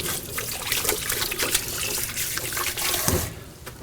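Tamarind fruit is washed under a running tap, the water splashing steadily and close into a sink, with brief gurgles and trickles before the flow eases near the end.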